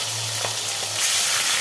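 Rohu fish pieces frying in hot oil in a home kitchen, a steady close sizzle with a low hum underneath that swells a little louder toward the end, with no one talking.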